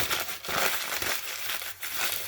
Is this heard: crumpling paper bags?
yes